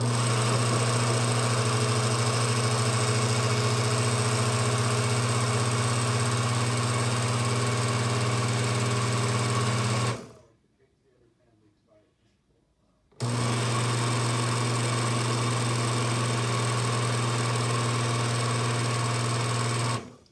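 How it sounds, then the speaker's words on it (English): A blender purees a nut-free, oil-free vegan cheese mixture with potatoes in a steady, loud motor whir with a strong hum. It runs about ten seconds, cuts to silence for roughly three seconds, then starts again just as steadily. "Yeah, baby, we're blending."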